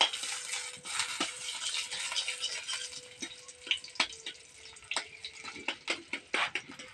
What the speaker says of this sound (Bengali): ঘিটা একটু গুলছে, দেখো ঘিটা গাঢ় হয়ে গেছে।